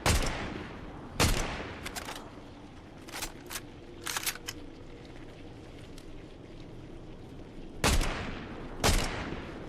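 Gunfire in Fortnite Zero Build, Season 3: several loud, sharp shots and short bursts scattered across the clip, separated by quieter in-game background noise, with no talking.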